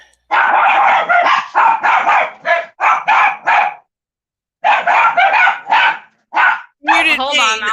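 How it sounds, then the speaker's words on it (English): Dogs bark in rapid bursts, loud and close, with a brief pause midway, then a whimpering yelp as barking resumes. "They're just barking."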